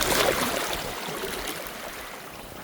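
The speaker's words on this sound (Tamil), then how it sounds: "இங்கே தண்ணி ஓடுது ஓடுது ஓடுது ஓடுது." Continuous broadband rush of flowing water, fairly close and steady, slightly louder at the start and easing off.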